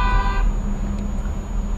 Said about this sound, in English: He's honking at me.